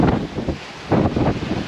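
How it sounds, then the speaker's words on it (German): Strong ocean waves and gusting wind at sea, heard from a sailboat crossing the Pacific: loud surging washes of water with wind buffeting the microphone in uneven bursts. "Ziemlich starke Wellen, also richtig ungemütlich."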